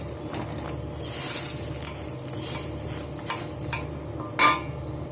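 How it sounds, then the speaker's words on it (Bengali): A stuffed flour and potato dough fries in oil in a wok, with a steady close crackling sizzle, occasional soft stirring scrapes and a louder clink near the end. "কড়াতে একটা দিয়েছি এটাও ভাজা হচ্ছে"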